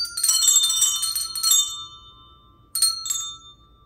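Christmas handbells ring in a rapid cluster of overlapping chimes that fade out, then a second, shorter burst of ringing follows after a pause.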